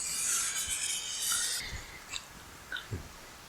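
Foam being cut out along traced pattern lines for a speeder bike model restoration, close rasping and rubbing strokes in a few bursts followed by quieter scrapes and soft handling noises, no talking.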